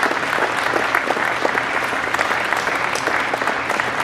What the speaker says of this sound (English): We could give a round of applause to Ralph Nicoletti.